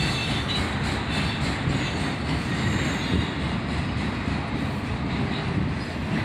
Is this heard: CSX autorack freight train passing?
yes